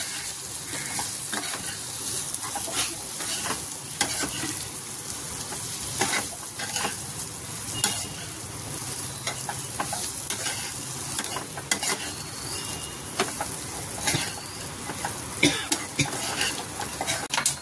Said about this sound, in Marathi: गॅस कमी करायचा आणि शेवळ्या टाकायच्या. हलका हलका हलवून घ्यायचंय.